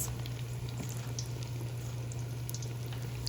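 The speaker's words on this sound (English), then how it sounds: "Drop that into the oil. And I'm confident with 1 more piece of fish, so while those are frying" Battered fish pieces fry in deep oil, a continuous soft crackling sizzle with scattered pops and a steady low hum, fairly quiet and close.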